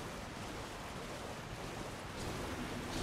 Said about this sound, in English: Under the waterfall.